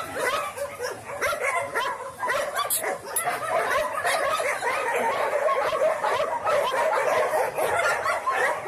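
A puppy with its mother yips and whimpers in a shelter, giving a continuous stream of high, busy squeaks and small cries at close range.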